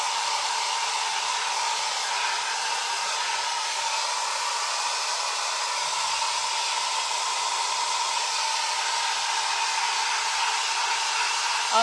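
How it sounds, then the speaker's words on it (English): A hair dryer blows on rice paper laid over a bottle, a loud, steady whooshing whir that runs unbroken for about twelve seconds with no other sounds. "let's go ahead and dry this thing. I know this is loud."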